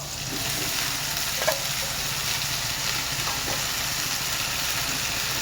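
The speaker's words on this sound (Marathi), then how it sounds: "आणि आता आपण टाकणार पालक" Spinach frying in a hot pan for dal palak gives a steady, fairly loud hiss of sizzling throughout, with a couple of soft stirring scrapes and no voices.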